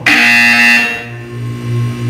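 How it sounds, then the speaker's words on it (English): In a Portal 2 test chamber, a loud electronic buzzer sounds once, a harsh sustained tone lasting about a second before fading into a low humming room tone. "When you hear the buzzer, look up at the ceiling."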